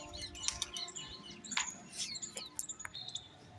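Small birds chirping and tweeting in quick, scattered bursts at moderate distance over a soft background hiss; no voices.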